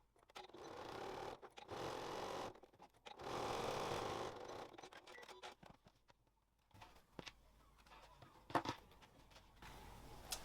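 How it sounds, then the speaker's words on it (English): A sewing machine top stitches along a bag seam in bursts of fast, rhythmic stitching, close and fairly quiet, with pauses and small handling clicks between runs. "now I'm going to top stitch along that top seam just to hold the seam allowance back"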